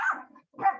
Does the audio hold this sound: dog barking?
yes